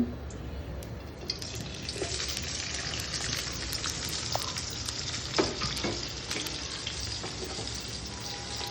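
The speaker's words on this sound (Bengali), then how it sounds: "পেঁয়াজ কুচি, কাঁচা লঙ্কা কাটা দিব, তেলের মধ্যে দিয়ে দিব।" Chopped onion and green chili frying in oil for a Bangladeshi fried kachki fish dish, a continuous close sizzle with faint spits and pops, no talking.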